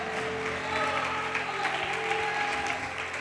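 Congregation clapping at a church service, steady continuous applause from a crowd at moderate distance, with a faint hum underneath and no clear speech.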